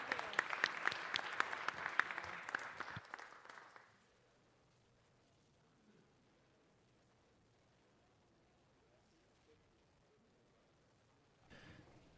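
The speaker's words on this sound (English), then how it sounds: "Let's give him another round of applause." People at a city council meeting applaud briefly for a few seconds, the clapping dying away into a quiet room with faint movement and a short return of sound at the end.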